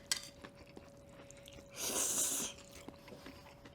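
Quiet, close crunchy chewing of bean sprout and egg-topped jjolmyeon noodles, with a short louder crisp bite in the middle, surrounded by soft mouth clicks.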